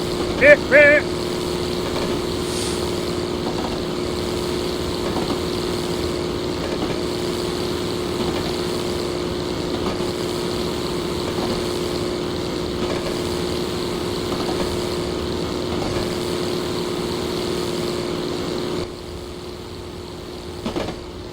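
A locomotive diesel engine in Train Simulator 2016 on a forest railway, run at full throttle, gives a steady, loud, droning hum with a constant low tone. It holds the same level throughout and eases off near the end.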